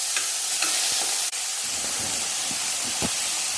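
Finely chopped onions sauté in a pan for a mixed-vegetable thoran, with a steady close sizzle and a few soft stirring scrapes.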